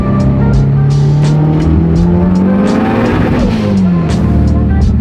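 A Civic Type R with antilag accelerates hard in second gear, its engine note climbing steadily then dropping at a shift, with rapid turbo flutter and chatter pulsing on top, loud and close inside the car.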